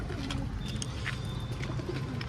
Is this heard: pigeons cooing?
yes